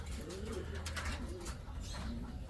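Pigeons cooing inside a breeder's loft, soft repeated low coos rising and falling amid light rustling and faint background noise, a voice murmuring quietly underneath.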